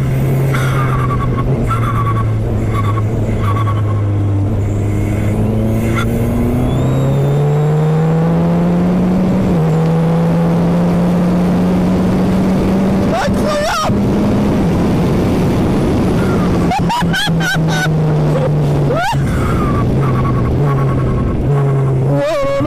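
A Formula 4 race car on a circuit, its engine droning loud and close from the cockpit, pitch rising through gears, then sharp downshifts with blips and crackles near the end.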